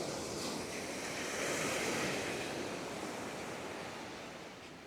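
Surf rolls onto Karon Beach in Thailand as a steady, broad wash of breaking waves with some wind, swelling slightly then easing, with no voices.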